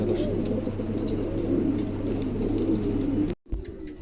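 A crowd of pigeons coos at a busy pigeon market, making a continuous low warbling murmur that is interrupted by a brief dropout before it resumes.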